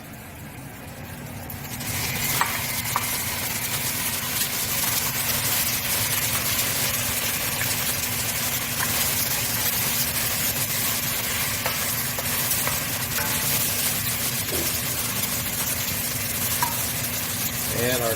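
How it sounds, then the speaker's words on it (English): Fonio jollof fries in a single pot as it gets stirred, with a steady sizzle and scraping under a low rumbling background hum that holds for the whole stretch. "one thing we have to remember is to constantly stir"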